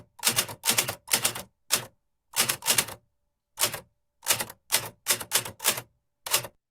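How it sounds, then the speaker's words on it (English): AI-generated typewriter typing, a series of sharp, loud, close key strikes in irregular bursts of two to four clacks separated by short silences, with no talk over it. "So if you just have a typewriter,"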